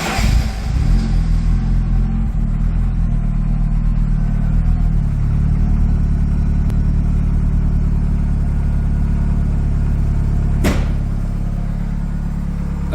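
A classic Ford Escort Mk1 restomod with a swapped-in Cosworth engine runs loudly through its exhaust, a deep steady rumble that swells slightly mid-way before settling to an even idle.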